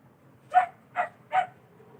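A pet dog barks three times in a home, evenly spaced sharp woofs of moderate loudness, close by against a quiet background.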